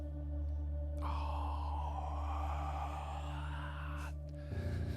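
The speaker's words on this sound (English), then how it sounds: "That was just me yawning." A person yawns, a drawn-out breathy exhale lasting a few seconds over a constant electrical hum, with a slight catch at the end.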